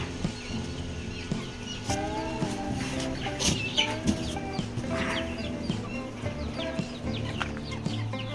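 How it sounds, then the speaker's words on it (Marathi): Several free-range village hens cluck and murmur on and off nearby, with a few sharper calls rising over a busy coop background. "आता कोंबड्या ठेवलेल्या आहेत"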